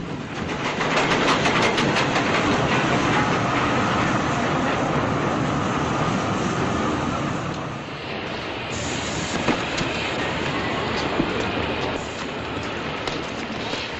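In a 1946 film, a train at a railway station gives off a continuous loud rumbling and hissing that eases slightly partway through.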